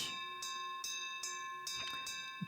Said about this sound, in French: cette cloche, elle semble sonner une alarme.